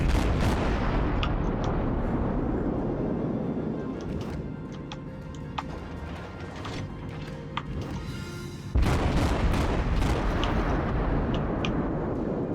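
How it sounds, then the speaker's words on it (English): Naval gunfire in World of Warships, heavy warship cannons booming in a ranked battle, with repeated deep thuds and rumbling blasts over a steady roar, and a louder salvo near the end. "Start laying some fire into him. Some nice high arcing fire."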